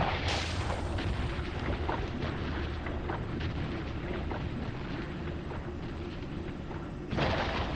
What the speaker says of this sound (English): Firing missile torpedo, take 2.